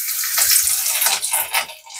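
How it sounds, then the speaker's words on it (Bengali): Chopped garlic sizzling in hot oil with whole garam masala while pomfret tel jhal is being made, a steady close hiss with fine crackle that swells and dips in short waves. "রসুনটা একটু ভাজা ভাজা হয়ে যাক"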